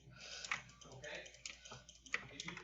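Quick irregular computer mouse clicks tapping away during a Roblox badge race, mixed with clatter and brief voice sounds in the background, moderately faint.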